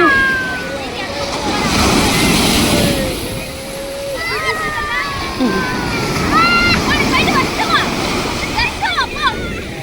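Sea waves wash in and slosh around on a beach, with surging water noise rising and falling while people talk excitedly over it.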